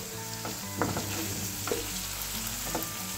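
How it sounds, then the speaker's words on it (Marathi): Chunky-cut vegetables and potato sautéing in a pan for sambar, a steady sizzle with several scraping stir strokes spaced through it, close and alone. "हे हलकसं आपण परतवून घेऊ।"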